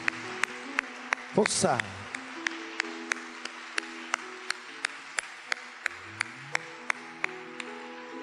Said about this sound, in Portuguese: Vamos aplaudir a palavra de nossa salvação.